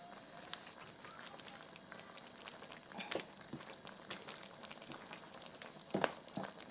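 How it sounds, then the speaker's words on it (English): Giant prawns boil in ketchup sauce in a pan, a faint bubbling with soft pops and sputters scattered through the clip, a few louder bursts near the end. "It's been boiling up for about 3 minutes now"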